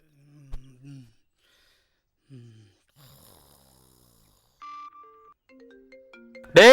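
A phone ringtone plays a short, bright, stepped melody in a Tamil-dubbed film scene, loud and near after quiet murmuring sounds, ending in a sudden loud burst.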